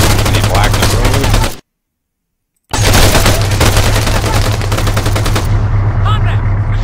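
Loud, rapid machine gun fire in the Arma 3 military game rattles continuously in two long bursts separated by a second of silence, with close, harsh report.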